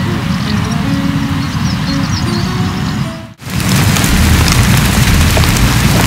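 Heavy rain falls steadily outdoors beside a mountain river in the upper Kuban during a fishing trip, a dense continuous patter that drops out briefly before resuming.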